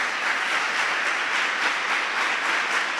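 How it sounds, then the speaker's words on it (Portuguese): A church congregation applauds for Jesus during a sermon, a steady, dense wash of clapping that holds even and fairly loud from start to finish with no voices over it. "Dê uma salva de palmas para Jesus."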